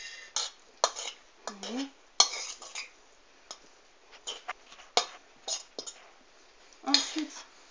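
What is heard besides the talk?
stirring tomato, avocado, shrimp and parsley tartare in a bowl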